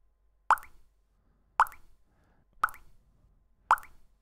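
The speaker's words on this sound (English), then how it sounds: "So now you can hear the drop falling at a much slower rate." Program-triggered water drop sample, four single plopping drips spaced about a second apart, clear and close against near silence.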